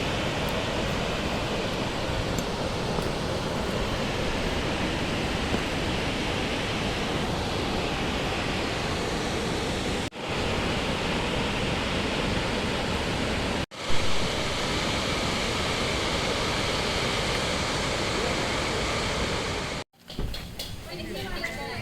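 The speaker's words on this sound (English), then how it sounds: "I saw that waterfall from above." Jog Falls, the enormous waterfall, roars as a steady broadband rush heard close by, constant throughout with a few brief dropouts.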